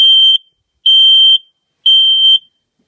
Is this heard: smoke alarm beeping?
yes